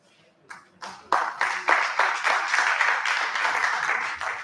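An audience at an annual review and planning meeting applauds the presenters, starting with a few scattered claps that quickly swell into sustained, dense clapping from many people before easing off at the end.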